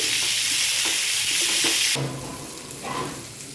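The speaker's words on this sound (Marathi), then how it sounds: "उरलेली मच्छी पण अशीच फ्राय करून घेणार आहे" Hapnus fish fries in hot oil in the Alibag, Agri Koli style: a loud, dense sizzle for about two seconds that then drops to a quieter bubbling hiss, with no talking.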